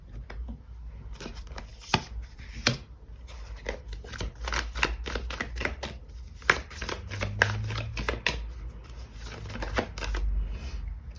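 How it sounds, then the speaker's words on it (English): Tarot cards shuffled and pulled from a deck by hand, a steady run of crisp riffling and slapping card sounds with soft thuds, close and fairly loud, no talking. "So I'm gonna pull out more cards."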